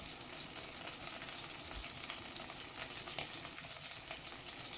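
Onions, green chilies and curry leaves fry gently over a low flame in a soft, even sizzle with scattered small pops and crackles. The sound is quiet and steady, with no one speaking.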